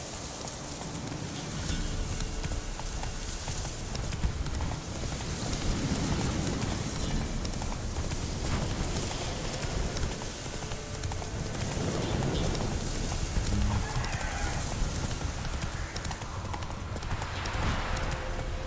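Roach, the horse in The Witcher 3 video game, trots steadily with rhythmic clip-clop hoofbeats. Rain patters behind them and a faint whinny comes through now and then, all fairly loud and continuous.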